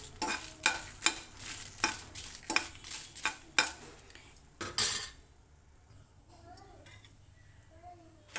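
Dried red chillies fry in a little oil in a kadai, with a sizzle under regular loud scraping strokes of a spatula that stop midway, leaving quieter faint clinks. A voice talks partway through.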